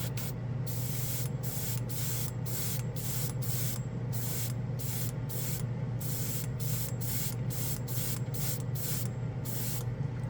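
A spray can of Green Stuff World metal paint hisses in a rapid series of short, even bursts, close and loud, laying light misting coats over a steady background drone, with no talking.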